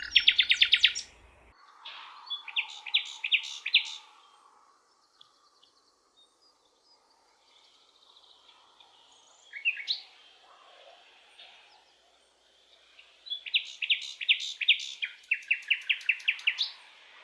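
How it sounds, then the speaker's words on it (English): A nightingale sings outdoors while a goldfinch is also present: loud bursts of repeated trills and whistled phrases at the start and end, separated by a quieter stretch of softer calls and faint background noise, with no voices. "Then the nightingale started singing again."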